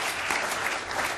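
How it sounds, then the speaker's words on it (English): A studio audience and game show contestants clap together in a dense, even burst of applause, loud and close, with no voices over it. "Oh dear, the winners were actually clapping them."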